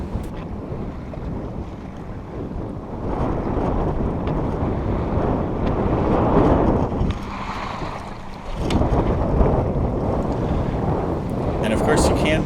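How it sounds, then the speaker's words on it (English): Steady wind rushes past a Compac 16 sailboat under mainsail alone as it crosses a lake, a continuous loud whooshing with water wash underneath and brief swells in intensity. "as we start to cross the lake get quite a bit more wind in that mainsail"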